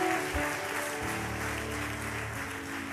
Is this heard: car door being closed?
no